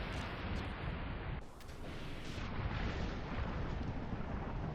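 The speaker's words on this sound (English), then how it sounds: "We're gonna blow the tanks." Submarine ballast tanks blowing in the WWII game UBOAT, a steady loud roaring rush of air and water that holds for several seconds with a brief dip midway.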